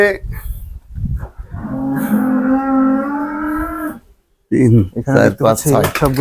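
A cow lets out a long, loud moo close by on a cattle farm, followed by further lowing calls from the herd.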